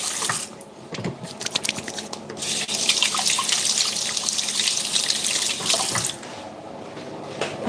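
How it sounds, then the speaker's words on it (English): Hands being washed under a running kitchen tap, water streaming steadily into a sink for several seconds with splashing changes in tone and a brief pause near the end; nobody speaks. "I'm just gonna wash my hands."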